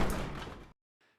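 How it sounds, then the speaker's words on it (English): A door slams shut as a story sound effect: one sharp, heavy impact with a short rumbling tail, then silence and a faint, brief echo. "In that split second, Eric and Nelson dashed to the door, sealing it shut behind them."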